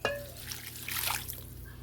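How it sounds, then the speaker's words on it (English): Chicken broth is poured into a hot pan to deglaze it after searing pork, a brief liquid splash and sizzling trickle that swells and then settles, close and moderately loud. "about 1/2 cup of chicken broth, which I am pouring into the pan first to deglaze the pan"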